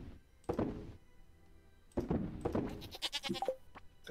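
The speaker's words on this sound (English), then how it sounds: "I need a name for a baby goat." A baby goat bleats in a farming video game, a few short bleats at moderate volume mixed with a couple of soft thunks, with no talk over them.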